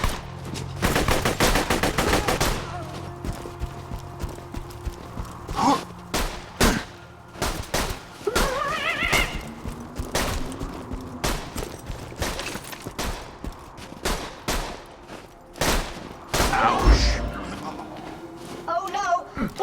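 Rapid gunfire bursts and single shots ring out in the video game Borderlands 2, loud and close, with bursts densest at the start and scattered shots throughout under shouting voices.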